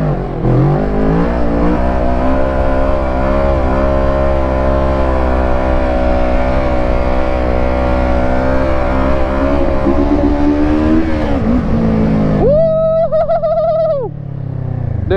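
A 450 sport bike engine is held at a loud, steady high rev for a long stretch while being ridden, then the pitch drops sharply near the end.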